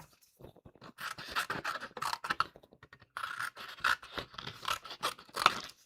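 Scissors cutting out a paper figure for a Christmas card, close and quiet, with a steady run of short snipping strokes, a pause midway, then another run of snips.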